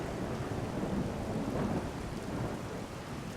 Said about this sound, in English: It is pretty, even with the rain coming down and the thunder